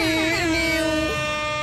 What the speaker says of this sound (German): Ah, diese Airhorns.